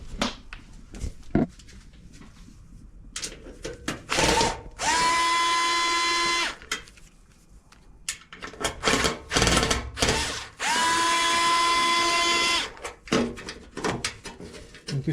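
A Bosch electric screwdriver unscrews screws at the back of an LG washing machine during a bearing replacement. Two sustained whirring bursts of about two seconds each sound close by, between clattering handling noises.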